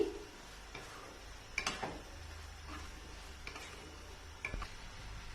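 A spoon stirs fried soybean chilli soya mixture in a pan, giving soft scraping ticks and a few sharper clinks over a faint sizzle, close and quiet.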